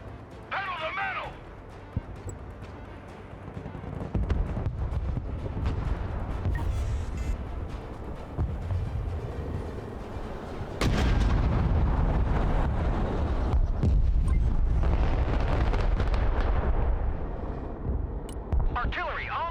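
Artillery and explosions rumble in the war game Broken Arrow, heavy low booms and a sustained roar with a sharp blast partway through, under radio-style voice lines.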